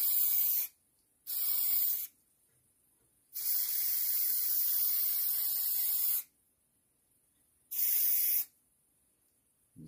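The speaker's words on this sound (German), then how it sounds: "die Unterseite machen wir, aber hier, wo die Feder ist, da bitte nicht hinterher sprühen" Coating sprayed from a can onto the underside of an oldtimer car comes in four loud hissing bursts, short ones at first and then a long steady blast of a few seconds, with silence between each.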